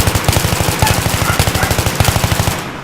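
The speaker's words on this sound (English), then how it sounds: "So let's do a little microbursting here, and I'll show you guys what it looks like." Rapid bursts of automatic gunfire from a weapon in Battlefield 3, short evenly spaced shots in quick clusters, loud and close, with no talking over it.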